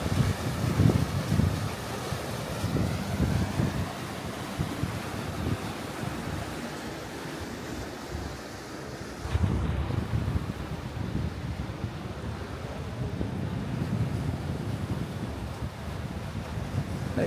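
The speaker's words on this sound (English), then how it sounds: "it's a bit windy up here now." Wind and waves at Back Rock Sands beach, a steady roar of surf mixed with gusty wind buffeting the microphone, loud and continuous throughout.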